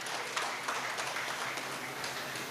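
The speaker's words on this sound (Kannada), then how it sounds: "ಅವರನ್ನೊಂದು ಚಪ್ಪಾಳೆಯ ಮೂಲಕ ಅಭಿನಂದಿಸಬೇಕು" An audience at a community service association gathering applauds together, a soft, steady patter of many clapping hands heard at a distance.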